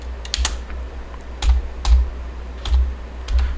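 Typing code on a computer keyboard, close and clear, with small bursts of key clicks recurring every half second or so and no talk.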